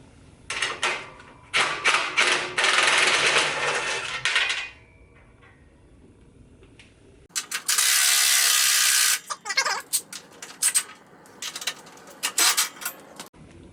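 Ratchet wrench with a 14mm socket working on a Scag V-Ride lawn mower deck, several bursts of rapid close clicking separated by short pauses, with light metallic clatter between.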